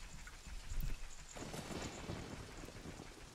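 Steady rain hisses with a low rumble of thunder in the video game Zelda: The Missing Link, a continuous wash of weather ambience without speech.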